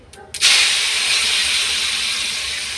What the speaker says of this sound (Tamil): இப்போ இதில் மாவடு போட்டுக்கிறேன்.